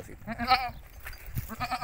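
A goat gives a short, wavering bleat early on, followed by quieter rustles and scattered farmyard noises at moderate volume.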